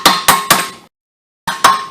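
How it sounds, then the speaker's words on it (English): Sharp metallic strikes ring out, three quick hits, a pause, then two more, close and loud, as a chipping hammer chips rust off the rear brake of a 2006-2012 Mercury Milan or Ford Fusion. "I'm just going to use a chipping hammer and chip this big flaky bunch of crusty"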